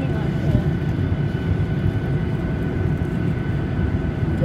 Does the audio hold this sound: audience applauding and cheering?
no